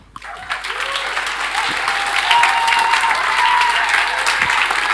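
After a sudden start, a seminar audience breaks into applause that swells and holds steady, dense clapping with some crowd murmur and tonal sounds threading through it.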